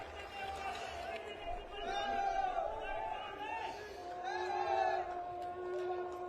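A crowd at a political rally cheers and calls out in steady waves that swell twice, with a speaking voice running over the noise throughout.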